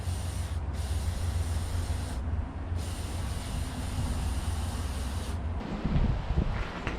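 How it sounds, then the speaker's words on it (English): Steady hiss of mass airflow sensor cleaner sprayed in several long bursts, close by, with brief pauses between them and a constant low hum beneath. "You're just going to take your mass airflow cleaner and just spray it in here."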